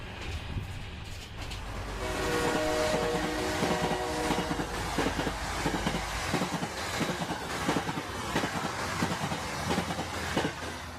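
Cartoon train sound effect of a train running, with steady rhythmic clickety-clack and rumble at moderate volume and no voices.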